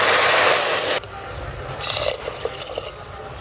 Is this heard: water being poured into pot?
yes